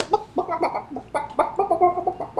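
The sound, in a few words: chickens clucking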